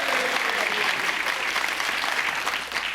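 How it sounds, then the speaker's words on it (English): A television quiz-show studio audience breaks into steady, full applause, continuous dense clapping from a crowd that stays loud and even from start to finish. "How was Leicester getting a round of applause all of a sudden?"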